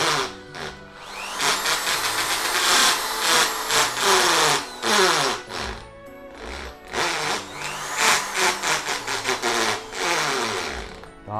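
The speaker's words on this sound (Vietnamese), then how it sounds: "khi chuyển qua chức năng khoan bê tông thì máy sẽ chuyển qua chức năng có chế độ búa" A Makita rotary hammer drill switched to its hammer mode for drilling concrete, running in a loud continuous whine with a rapid rattling percussive chatter and pitch shifts as the trigger is worked, close up with no talk.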